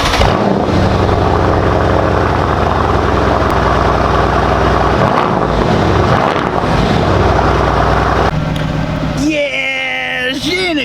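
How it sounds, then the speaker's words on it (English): Cold start of the twin-turbo hybrid engine in a 2023 Mercedes-Benz C63s AMG, a loud, steady close-up engine roar that holds throughout with rising tonal sweeps near the end. "we start this video out with a proper cold start"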